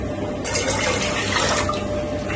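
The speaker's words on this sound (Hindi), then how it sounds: "अब हमने जी 2 कप ले लिया पानी ये" Water poured into a container to measure two cups, a steady splashing gush for about a second and a half over low background noise, with no voices.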